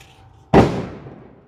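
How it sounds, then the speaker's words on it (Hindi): A single loud firecracker bang goes off nearby the day after Diwali, its sharp crack trailing into a long fading rumble, with no voices. "दिवाली के एक दिन बाद भी लोग पटाखा ही फोड़ रहे हैं।"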